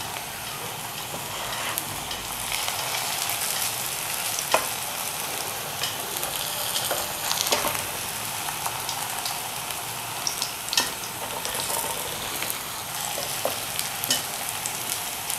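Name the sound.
spinach kababs frying in oil, being flipped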